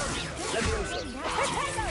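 A Leviosa levitation spell in Hogwarts Legacy on PS5 gives off swishing, whip-like whooshes with warbling tonal sweeps, close and fairly loud amid combat sounds.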